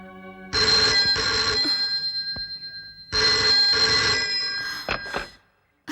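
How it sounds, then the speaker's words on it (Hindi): An incoming call on a telephone in a Hindi-dubbed action film rings loudly in two long sustained bursts separated by a short pause, with no talking over it. "कमला का फोन है।"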